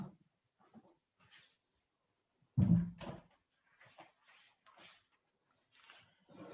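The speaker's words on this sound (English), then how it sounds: "I will close the door for a second." An indoor door swings shut with a single low, solid thump, surrounded by quiet stretches and a few faint scattered clicks and rustles.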